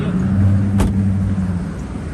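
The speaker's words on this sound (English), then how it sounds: "I'll let you hear under the hood just to hear the motor." A 1996 Ford E-150 StarCraft conversion van engine running steadily, heard close up under the open hood with a low continuous hum and one brief sharp tick partway through.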